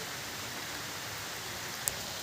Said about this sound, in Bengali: দেখো আবার বৃষ্টি চলে এসছে, সকাল থেকে 3-4বার বৃষ্টি চলে এসছে